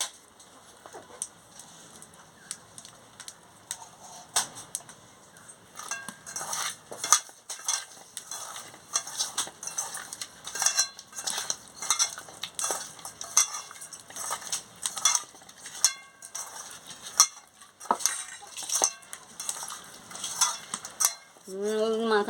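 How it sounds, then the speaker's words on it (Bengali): Hands rub salt and turmeric onto raw kalbasu fish in a village kitchen, making soft wet squelches and scattered clicks that become busier and rhythmic partway through, with no speech. "এবারে নুন হলুদটা মাখিয়ে নিচ্ছি।"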